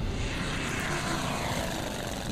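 Propeller-driven recon plane engines drone steadily in the WWII strategy game Order of Battle, a continuous broadband hum holding at a constant level throughout.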